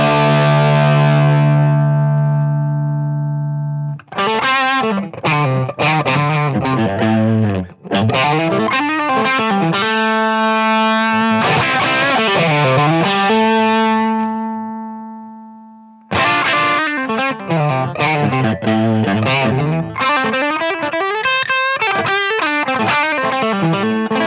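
Fender Strat-style electric guitar with a Seymour Duncan Little 59 bridge pickup played through a gritty, driven amp, opening on a sustained chord, then rhythmic strummed riffs broken by short pauses and a long ringing chord that fades out.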